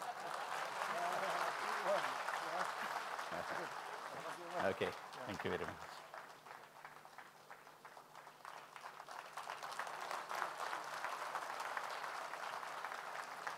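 Crowd applause at a DXN event in Qatar, sustained and fairly faint from a distance, with a man briefly thanking the audience partway through before the clapping continues.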